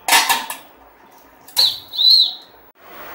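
Metal idli plates clatter and scrape as they are set into a pressure cooker on the stove, a sharp clank followed by a brief grinding slide, then a quieter knock.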